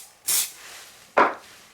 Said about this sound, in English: I'm going to spray the back of my paper with some glue